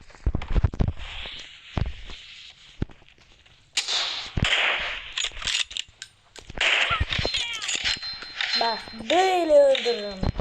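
Gunfire in the mobile battle-royale game PUBG Mobile with M24 and M4 rifles, sharp cracks in scattered bursts, some close and loud, mixed with in-game clatter and footsteps while a player talks over it.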